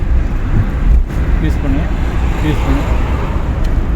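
A car accelerates on a road during a driving lesson; a steady, close engine and road rumble runs throughout, with a voice present.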